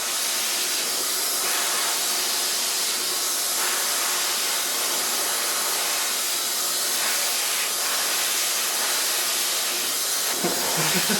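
A hair dryer blow-dries long layered hair in a salon while a medium brush works it, giving a steady, loud, unbroken airy whoosh for the whole stretch.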